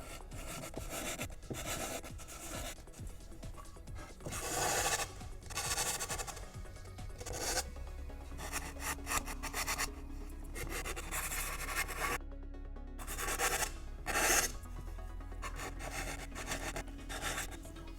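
A part for a Boba Fett jet pack replica is sanded to round off its edges, giving continuous rasping rubs in uneven bursts with brief pauses, close and fairly loud with no talking.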